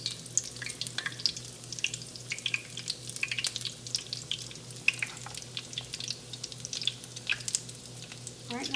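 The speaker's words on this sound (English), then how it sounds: "Don't you love that sizzling sound?" Doughnuts made from canned biscuit dough sizzle steadily in hot frying oil, a dense crackle of tiny pops and bubbling, close and moderately loud throughout.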